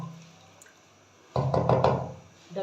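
A lid set over a cooking pot holding egg bhurji gravy with two cups of added water, giving a short cluster of close clattering knocks and rattles after a quiet moment, with one more tap at the end.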